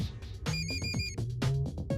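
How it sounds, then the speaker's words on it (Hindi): A phone ringtone plays a bouncy, repeating electronic melody, fairly quiet and close, with no voices. "तुम्हारा फोन बज रहा है।"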